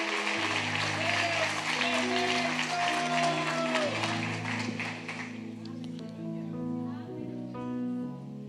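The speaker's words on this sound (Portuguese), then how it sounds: "Você pode aplaudir o Senhor por isso?" A church congregation applauds during a worship service, a broad wash of clapping over sustained organ or keyboard chords, fading after several seconds as music continues underneath.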